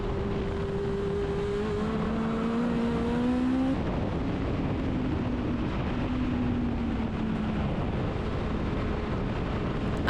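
A Legend race car works through a circuit chicane, its engine droning loud and close with steady pitch changes as it shifts and runs over the curb, with no talk.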